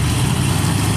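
Diesel engine of a race truck idling loudly before a pulling run at a Finnish truck pulling event, a dense, steady low rumble with no talking.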